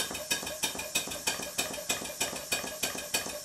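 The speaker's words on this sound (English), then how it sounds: "The noise you can hear in the background is my silent compressor, which is not exactly silent" A so-called silent air compressor runs steadily in the background of a home workshop where Stuart 5A steam engines are kept, its even rhythmic thumping repeating about three times a second throughout.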